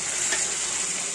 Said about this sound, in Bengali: এখন হচ্ছে গরম জল করে নিয়েছি অল্প, এটা হচ্ছে এর মধ্যে ঢেলে দেবো।